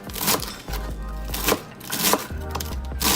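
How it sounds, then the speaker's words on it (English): Celery is rough chopped with a knife on a cutting board in a home kitchen, giving close, irregular bursts of knocking chops that come alone without talk. "I'm going to do a rough chop with that"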